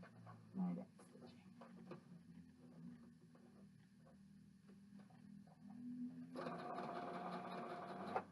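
A sewing machine stitching backstitch in freehand mode, running quietly with a steady mechanical whir that grows louder and denser toward the end, while a person talks softly over parts of it.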